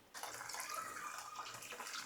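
Water runs steadily from a tap over soaked moong dal being washed, a close, even hiss of flowing water that starts abruptly and continues without talk.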